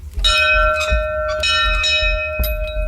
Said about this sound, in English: Well, let's ring the bell then.